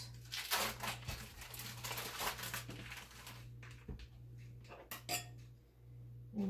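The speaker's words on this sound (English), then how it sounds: "And then we need our smoked sausage. And I'm going to cut this up into discs." A knife slices smoked sausage into discs on a board in a kitchen, making a run of soft, close taps and scrapes with brief clinks and pauses between cuts.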